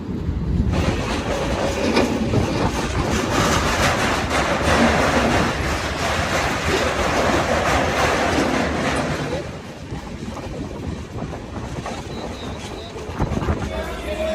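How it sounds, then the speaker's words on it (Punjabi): A passenger train pulls into Manmad station, its steady rumble and clickety-clack of wagons loud and close, easing off near the end as it slows. "ਟ੍ਰੇਨ ਪਹੁੰਚ ਗਈ ਮਨਮਾੜ"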